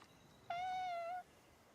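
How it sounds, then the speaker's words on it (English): A cat in the Heartopia video game gives a single clear, mid-length meow, fairly faint against quiet background hiss. "Food for the kitty."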